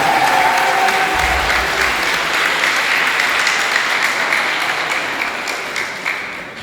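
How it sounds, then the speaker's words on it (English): Sustained applause from a crowd at a fifth-grade promotion ceremony, a dense, loud wash of clapping that holds steady and then slowly fades toward the end, with no voices over it. "Can we give one more round of applause"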